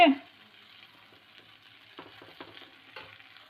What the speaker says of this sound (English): So we have to dry roast all these things for 1 to 2 minutes